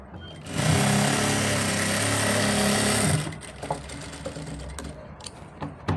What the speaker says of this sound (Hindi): हम उस पर ये इसको मिलाते हुए पट्टी को सेंटर को और इस पर सिलाई लगाएंगे